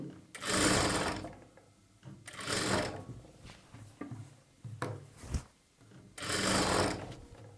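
Sewing machine stitching fine piping onto a blouse, running in three loud bursts of rapid whirring with quieter handling and fabric shuffling between them, close up.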